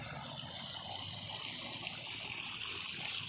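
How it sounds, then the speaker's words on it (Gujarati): Polluted, foul-smelling sewage water from a drain pours into an irrigation canal, giving a steady close trickling and gushing flow that runs without pause throughout. "આ જે કેનાલ છે એમાં આ દૂષિત દુર્ગંધ મારતું પાણી આ જઈ રહ્યું છે"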